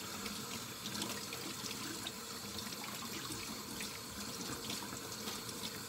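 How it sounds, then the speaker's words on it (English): Water running from a tap while hands are washed, a steady faint hissing splash into a sink that continues throughout with no talking. "so I can wash my hands"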